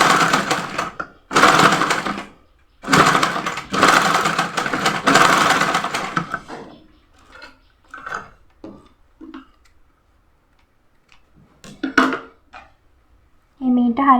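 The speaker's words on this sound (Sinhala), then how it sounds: "අල්ලලා ඒක මහන්න." A sewing machine stitches a strap onto a smocked off-shoulder dress in several loud runs of fast stitching, followed by quieter handling and a short stitching burst near the end.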